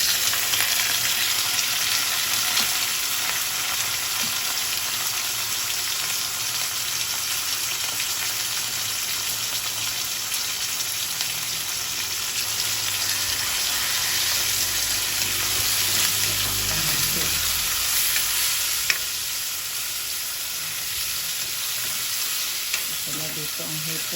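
Pork kasim fries in a hot pan for ginisang monggo, a loud, steady, close sizzle with stirring and scraping sounds midway and a brief clink near the end.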